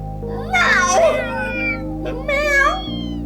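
Cats meow twice in The Legend of Heroes: Trails Through Daybreak 2, two drawn-out, rising-and-falling mews over a steady game music bed.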